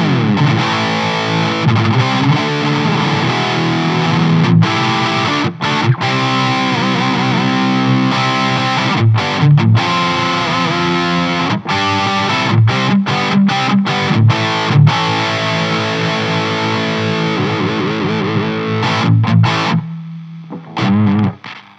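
A heavily distorted electric guitar through a Nembrini Audio MP1 Pro tube amp plugin on default settings plays chugging riffs and sustained chords with crunchy amp tone, punctuated by brief stops and pauses.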